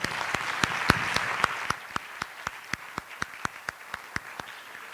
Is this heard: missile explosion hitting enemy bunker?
no